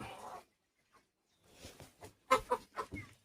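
Hens clucking in a coop, a few soft bursts early, then a quiet pause before a busier run of short, close clucks.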